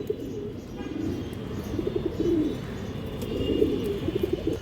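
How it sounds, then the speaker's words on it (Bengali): Pigeon coos in low, rolling bursts close by, repeated several times over a steady background murmur. "কবুতর দেখেন"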